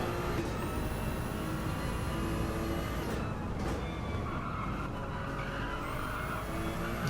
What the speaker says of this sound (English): The Ferrari sounds very smooth.